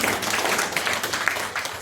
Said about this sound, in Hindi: ताली नहीं बजना चाहिए